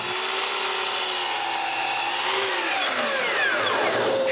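A table saw rips wood strips, a loud steady whine of the blade with shifting pitch as the stock feeds through, close and continuous with no talk.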